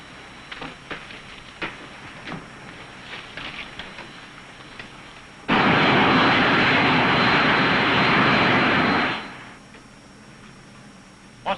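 A fixed-wing aircraft engine during a climb, at about 2,100 RPM: faint patter at first, then a sudden loud, steady roar that lasts a few seconds before cutting back down.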